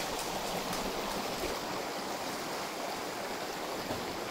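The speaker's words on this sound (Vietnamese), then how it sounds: "đây là con suối chính này" A forest stream in the jungle runs steadily, a dense, continuous rushing and babbling of water that stays close and fairly loud from start to finish, with no voices.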